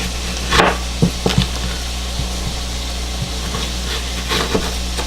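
A knife slices through a sweet onion on a wooden cutting board, giving scattered soft taps and thuds against steady background noise.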